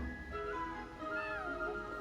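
Snowball, a fluffy white cat in the video game Genshin Impact, lets out soft, wavering meows over a steady bed of game music, with no one talking.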